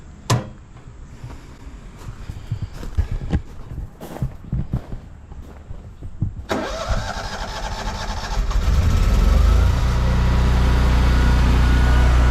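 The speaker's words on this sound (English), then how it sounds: "wait for the generator to start" A standby home generator cranks and catches around six seconds in, then settles into a loud, steady, close running drone after a stretch of quieter background clatter.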